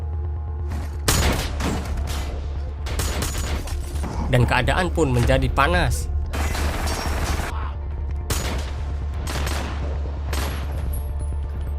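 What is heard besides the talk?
gunshots in a film shootout with robbers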